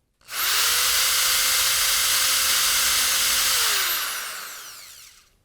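A Manpa EZ Sander spun by a drill through a keyless chuck and multi-extension shaft, starting abruptly with a loud, steady high-pitched whine and rushing hiss, then spinning down with a falling tone.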